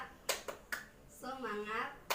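Rhythmic 'tepuk semangat' clapping led by a teacher in a primary classroom, a few sharp hand claps spaced between chanted words, with a voice singing out in the middle of the pattern.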